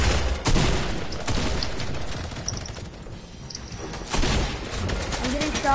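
Bursts of video game gunfire crackle through an arena match, with loud volleys at the start, a quieter lull in the middle and renewed shooting near the end, while players talk over it.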